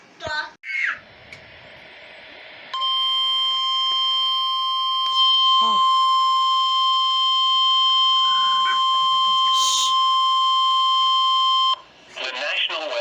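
Emergency Alert System tones for a special marine warning: after brief talk, a loud, steady two-tone alert sounds for about nine seconds, then cuts off and speech returns.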